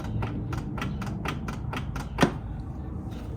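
A Saab 9-3 door latch clicks repeatedly, about eight sharp mechanical clicks in a steady rhythm, close up over a low background hum, with one louder snap near the end.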